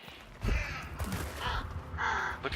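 Crows caw in the shooter game Hunt: Showdown: several harsh, close calls burst out in quick succession, loud against a low background rumble.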